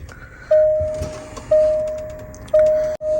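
Three evenly spaced electronic chimes ring out, each a clean tone that fades, as a luxury car's gear selector rises after a push-button start, followed by a short thump.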